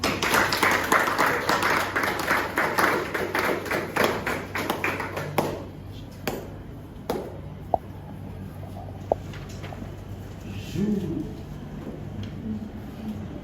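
Applause after an oath at a thesis defence ceremony: dense clapping from a gathered crowd for about five seconds, then fading to a few scattered claps and faint sounds in a quiet room.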